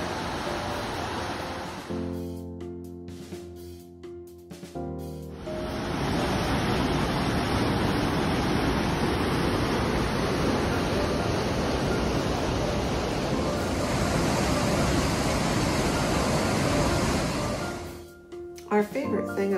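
Rushing river water roars at the Rogue Gorge on the Rogue River in Oregon, a steady loud wash that swells after a few seconds of talk and carries on for most of the clip before fading.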